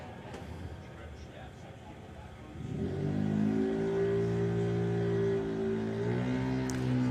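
A drag racing car launches down the strip at Santa Pod Raceway, its engine rising to a loud, sustained roar after a quieter stretch of background noise, with a commentator talking over it.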